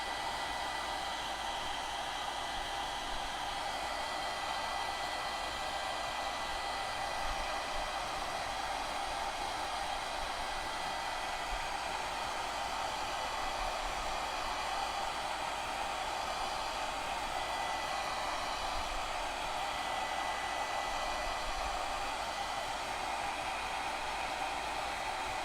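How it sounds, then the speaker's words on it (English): A hair dryer runs steadily and close up for the whole stretch, drying a snowman snow globe craft piece with a constant, even whoosh and no pauses or talk. "We're going to blow dry this piece for a minute."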